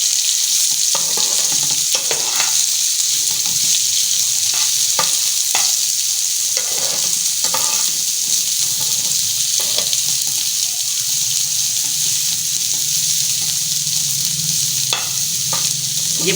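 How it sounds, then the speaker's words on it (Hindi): Onions frying in a pan for pinwheel samosa, a continuous close hiss and sizzle with intermittent scraping stirs and taps throughout. "अब थोड़ी हम इस प्याज को भी भून लेंगे।"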